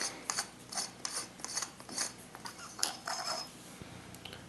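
Grip being removed from a Starkiller lightsaber replica: a run of quiet, close scraping and ratcheting clicks in short uneven bursts, no voices.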